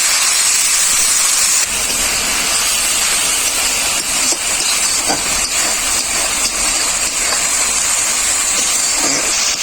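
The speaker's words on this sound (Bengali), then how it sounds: "মশলাটা ভালো করে কষানোর জন্য পরিমাণ মতো একটু জল দিয়ে দেবো।" Ground spices such as cumin, coriander and turmeric hiss loudly in a pan after water is poured in to cook down the masala for a fish-head dal, a harsh, continuous steamy sizzle with no talk.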